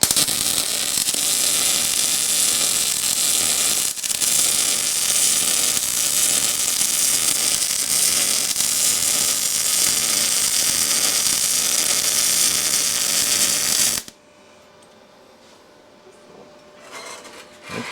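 A Yeswelder DP200 welder running on a mini truck lowrider build gives a loud, crackling arc hiss that lasts about fourteen seconds, then cuts off abruptly to quiet workshop noise.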